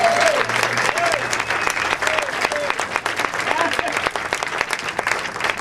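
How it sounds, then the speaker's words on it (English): Audience applause fills the room, a steady dense wash of clapping from a sizable crowd that continues throughout, with a few whoops over it. "So give a big round of applause for Dan Westbaum."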